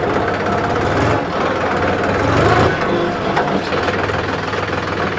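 Diesel tractor engine, a Mahindra 275 DI TU PP or Swaraj 735 FE, idling steadily as it is shifted into reverse, a loud low rumble with knocking pulses throughout and no talk.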